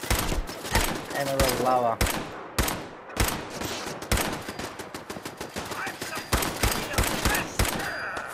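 Bursts of automated turret gunfire rattle through a Fallout 4 fight, sharp repeated shots and volleys filling the scene while someone talks over the shooting.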